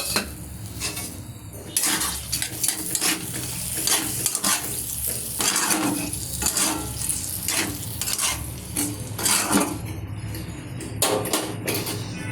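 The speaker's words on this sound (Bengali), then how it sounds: "এবারে আমি লাউয়ের সাথে মিশিয়ে দিলাম।" Bottle gourd vegetables stirred with spice powder in a sizzling pan, a steady close scrape and clatter of spoon against metal over continuous frying hiss for the whole stretch.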